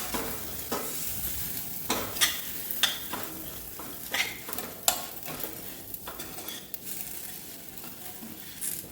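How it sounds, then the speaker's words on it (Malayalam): A jackfruit seed chikki mixture stirred in a pan, with a spoon scraping and knocking against the metal in irregular strokes over a faint sizzle. "ഒന്ന് നന്നായിട്ട് മിക്സ് ചെയ്തെടുക്കാം"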